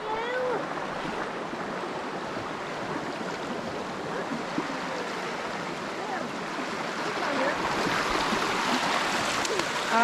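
Water rushes and gurgles steadily, a broad continuous wash of the flowing current of Holly Creek, with faint voices in the background.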